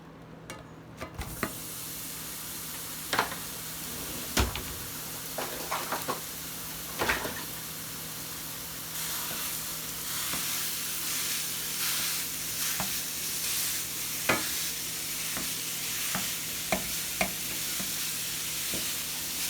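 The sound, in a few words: ground beef sizzling in a pan on the stove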